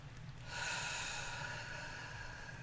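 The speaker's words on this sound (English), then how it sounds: "Deep breath." A single long, deep breath drawn in through the nose, a close, breathy inhalation that swells and holds steady for about two seconds.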